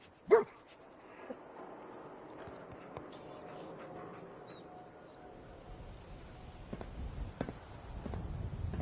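Dogmeat, the canine companion in the video game Fallout 4, gives a single sharp bark at the start, then quiet movement and faint footsteps follow over low game ambience.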